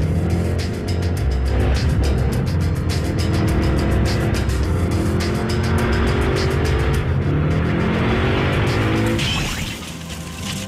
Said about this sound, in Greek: Σε λίγο θα έρθει το αυτοκίνητο.